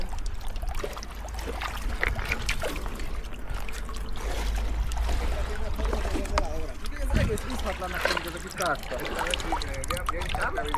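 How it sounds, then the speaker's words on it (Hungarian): Water trickling and dribbling out of a bicycle frame outdoors, a close, continuous splashy pour with wind rumble underneath and voices talking intermittently over it. "Hallgass meg, hogy folyik ki a vázból a víz."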